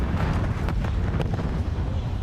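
Frag grenades going off in the distance during a grand-finals esports match in a shooter video game, heard as a loud, continuous low rumbling roar broken by several muffled bursts, with no voices over it.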